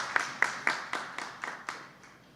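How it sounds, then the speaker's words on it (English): About eight distinct claps ring out at a Racial Equity Commission meeting, spaced evenly and fading in strength, a small, thin round of applause in a quiet room. "You can give a round of applause"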